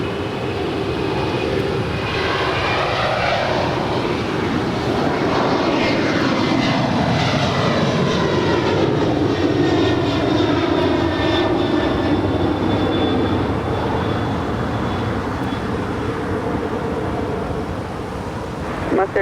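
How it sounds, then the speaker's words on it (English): A Korean Air heavy jet lands on runway 25 left at LAX, its engines producing a loud, steady roar with sweeping pitch tones as it passes close by, holding strong throughout. "Korean 279 approaching on 25 left."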